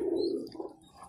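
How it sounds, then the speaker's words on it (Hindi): Teddy pigeons at a breeding loft give a soft, low coo, close and brief, followed by a fainter second coo. "ये देखें टैडी कबूतर"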